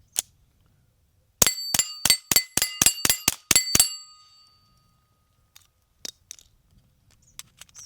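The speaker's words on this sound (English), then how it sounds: "You can tell that they're definitely hitting the plates pretty hard." Rounds from a Scorpion pistol ring off steel target plates in a rapid string of about nine bright metallic clangs, with ringing tails, followed by a few scattered faint pings.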